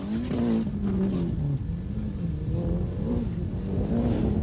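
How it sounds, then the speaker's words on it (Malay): A Proton Saga Turbo 4WD Group S rally car drives past with a loud, steady engine drone that rises and falls in pitch as it changes speed, close by and with no other sounds over it. "memandu kereta jenis Proton Saga Turbo 4-wheel drive"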